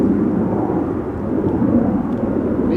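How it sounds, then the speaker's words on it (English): A jet airplane at Amsterdam Schiphol Airport near the Kaagbaan runway makes a loud, steady, low engine roar that holds without pause from start to end, with no talk. "jet that I was hearing"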